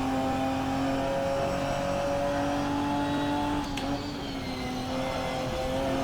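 A Ginetta SuperCup 2017 race car in Assetto Corsa holds a loud, steady high engine note with little change, heard close and alone with no talk.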